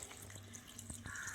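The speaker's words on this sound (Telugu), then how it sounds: "వాటర్ పోసేసి" Water is poured over rice flakes being washed, faint soft trickles and drips with a few brief splashes, quiet and close.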